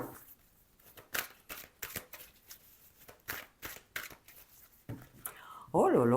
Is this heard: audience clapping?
no